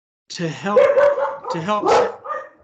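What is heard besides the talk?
dogs barking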